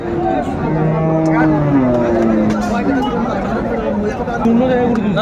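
A Sahiwal cow gives a low, drawn-out moo beneath a busy background of people chattering close by at the Ambari cattle market in Dinajpur.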